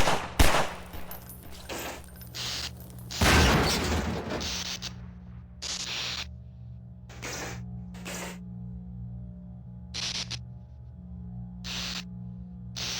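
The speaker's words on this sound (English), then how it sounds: "The shots of my gun echoed, and it startled me" Gunshots fired in the VR game Half-Life 2, a loud opening burst followed by a rapid cluster of shots, then several single sharp reports spaced a second or two apart, each trailing a ringing echo over a steady low hum.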